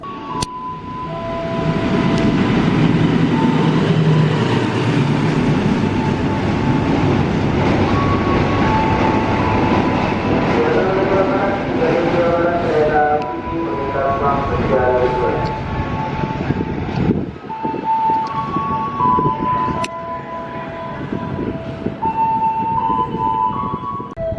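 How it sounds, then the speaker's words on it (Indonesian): The Cakrabuana 121B passenger train runs through a station, a loud sustained rumble of wheels and carriages with tonal horn or siren-like notes layered over it, steady throughout and fading slightly near the end. "Yang akan melintas duluan adalah kereta api Cakrabuana 121B"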